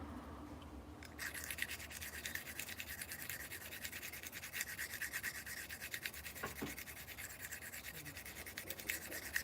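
A K390 steel knife grinds against an 80 grit diamond stone in continuous rapid rubbing strokes, a close, gritty scraping that runs on steadily.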